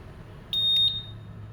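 A motorcycle smart key alarm, tested on a smart key simulator during an SCU diagnosis, gives one short high-pitched electronic beep with a few pulses under steady background hum, loud and close.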